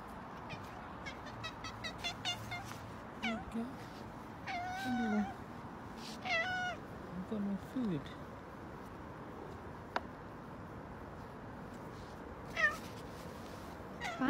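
A pet cat in a carrier meows several times in short, wavering calls scattered across a noisy background with some muffled talk-like sounds, moderately near and not loud.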